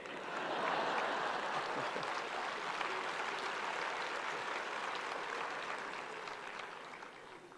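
An audience claps steadily at a political speech in India: dense, sustained applause that swells early, holds, then eases slightly, with no talk over it.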